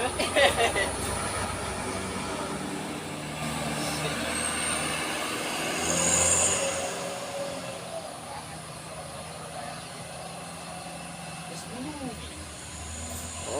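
A vehicle engine roaring as it labors up a steep incline, a dense continuous drone with rumbling low end and rising strain, heard throughout alongside background noise.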